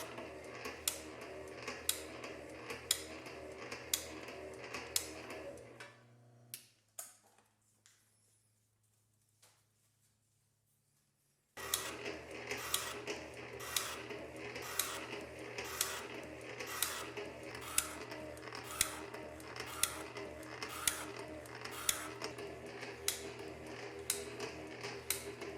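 Metal shaper machine cutting workpiece stock for Pennsylvania A3 switcher box lamps, a steady rhythmic ticking of repeated strokes that stops briefly midway, then resumes at the same pace, fairly close with no talk.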